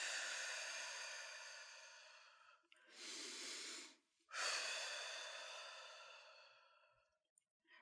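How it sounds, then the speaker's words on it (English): Two slow, deep breaths taken in through the nose and let out through the mouth during a calming exercise, each a long, soft airy rush, close and quiet. "Take a deep breath in through your nose and out through your mouth."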